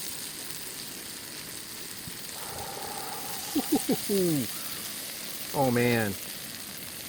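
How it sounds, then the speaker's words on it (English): Sausages fry in a pan outdoors in a swamp camp at breakfast, a steady soft sizzle running throughout beneath a few brief spoken remarks. "I got some sausages going. Da da da da. Those are gonna fry up nicely."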